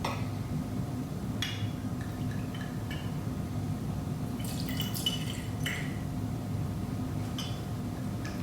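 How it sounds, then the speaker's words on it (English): Nagori filtered sake is poured into a cocktail glass, trickling and dripping in short bursts with light glassy ticks over a steady background hum. "This is Nagori filtered sake, and we put in 2 ounces to mix it up."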